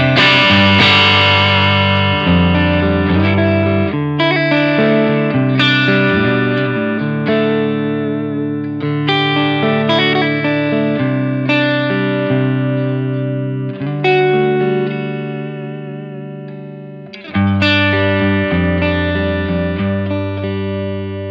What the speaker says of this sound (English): It's a kind of transparent blues breakery type overdrive.